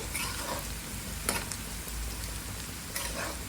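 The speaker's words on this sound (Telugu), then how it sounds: "మనకి ఇది మంచిగా వేగాలి కొంచెం గోల్డెన్ కలర్కి వస్తే చాలు" Onions fry in a pan until golden, with a steady close sizzle and a couple of soft stirring scrapes.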